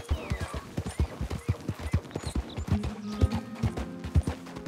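Horse hooves clip-clop in a steady, brisk rhythm while riding in the Red Dead Redemption 2 video game, close and clear, with a low sustained tone entering partway through.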